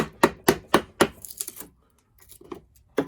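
Wood being carved for an archtop guitar, a run of five sharp, evenly spaced chopping knocks, then a brief scrape and a few quieter scattered taps, close and dry.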